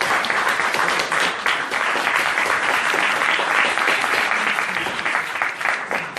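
Sustained crowd applause for a municipal councillor of Saint-Nazaire at a French political party meeting, dense steady clapping from a large audience filling the room throughout.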